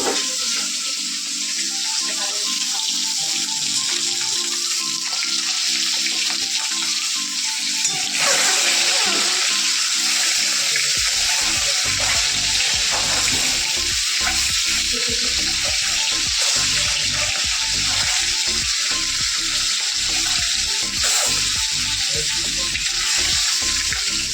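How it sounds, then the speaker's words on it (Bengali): Tap water runs steadily into a sink while small fish are washed, a loud continuous hiss with clattering and splashing of handling through most of it. "চুনো মাছটাও বের করেছি মাছটাকে ধুয়ে নেবো"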